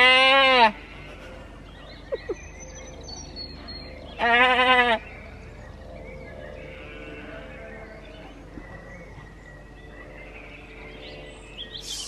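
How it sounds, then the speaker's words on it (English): Sheep bleat loudly nearby: two long wavering calls, one at the start and another a few seconds later, with quieter farmyard background and faint distant bleats in between. "Sheep are being vocal."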